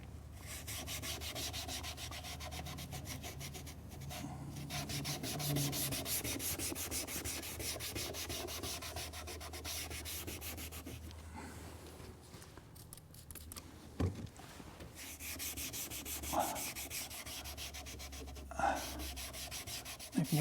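A cloth wiping over faded, aged black plastic trim on a Mercedes SL convertible gives a continuous close rubbing and swishing, with a few faint taps and knocks near the end.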